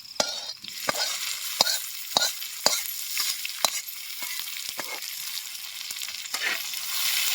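Onion added to a hot pan and frying, an even hiss of sizzling oil broken by frequent sharp scrapes and taps of a spatula against the pan, close and alone without talk.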